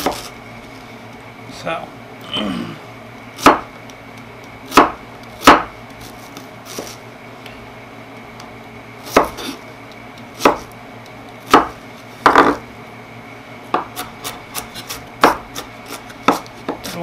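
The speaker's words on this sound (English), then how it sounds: "we want to try to chop this really finely as well, because again, you don't want giant chunks of onion" A knife chops onion finely on a cutting board for guacamole, sharp irregular taps spaced apart at close range, with a voice speaking briefly alongside.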